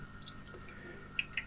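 Tap water trickling into a Hobby Artemia brine shrimp hatchery, heard as a few faint, sparse drips and small splashes against a quiet background hiss, with no talking.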